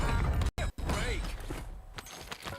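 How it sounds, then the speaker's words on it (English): A video game weapon reload with mechanical clicks and clacks as a magazine is swapped, brief and close, with a voice faintly underneath. "Changing mags."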